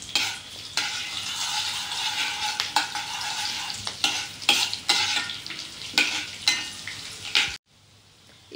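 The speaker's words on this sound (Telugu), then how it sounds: "ఒకసారి అటు ఇటు తిప్పుకుందామండి ఈ తాలింపుని" A tempering of dried red chillies in hot oil for tamarind-leaf dal is stirred around the pan, with repeated scraping strokes over a constant sizzle, ending in a brief quiet tail.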